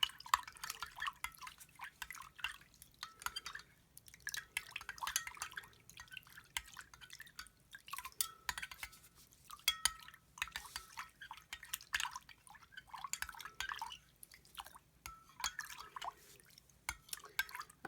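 A spoon stirs a liquid hand sanitizer mixture in a bowl, soft wet swishes and light clinks repeating at an unhurried pace, quiet and close with no talk.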